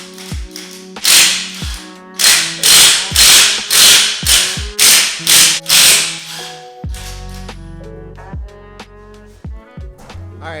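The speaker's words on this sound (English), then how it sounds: "So I'm going to pop them off with this, my trusty Impact." Impact wrench hammering lug bolts off a BMW F80 M3 wheel: a run of loud, rapid rattling bursts in quick succession, then a lower whirring spin-down with clicks as the last bolt comes free.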